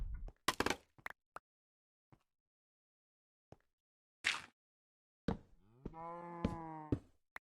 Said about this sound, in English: Tired of listening to your mooing.